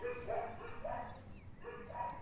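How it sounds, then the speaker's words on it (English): Dogs barking a few times in a backyard garden, somewhat distant and faint over steady outdoor background noise, with short separated barks. "sorry about the dogs"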